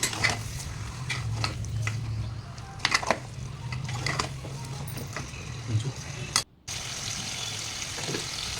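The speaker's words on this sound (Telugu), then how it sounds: "మటన్ వేసి బాగా కలుపుతున్నాను" Mutton pieces stirred in a pot for Telangana mutton curry, a spoon scraping and clacking against the metal in repeated strokes, with a faint wet sizzle underneath, close and moderately loud.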